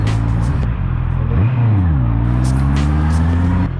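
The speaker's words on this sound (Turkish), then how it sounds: "Motor sesi çok hoşuma gidiyor ya" A loud motorcycle engine rumbles steadily up close, dipping and rising in pitch as it revs and shifts, continuous throughout.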